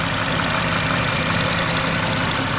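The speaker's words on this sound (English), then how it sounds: "Obviously the injectors are like blah, blah, blah, blah. They're just very loud, aren't they?" A BMW M140i engine idles close by with loud injectors, giving a steady, dense mechanical rumble with a fast ticking clatter, unbroken for the whole stretch.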